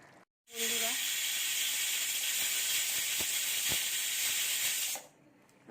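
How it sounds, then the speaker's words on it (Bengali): A pressure cooker holding mutton handi gives a loud, steady hiss of escaping steam for several seconds, close by, then cuts off abruptly into quiet. "আমি 7টা সিটি দিয়েছি প্রেসার কুকারে।"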